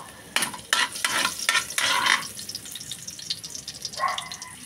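Garlic and onion sauté in a pan for chicken afritada, with a steady soft sizzle broken by several quick scraping stirs near the start and one more toward the end.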